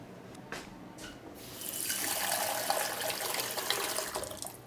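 Tap water runs into a cooking pot at a kitchen sink, a steady broad rush that swells louder as the pot fills, with faint kitchen handling sounds before the flow starts.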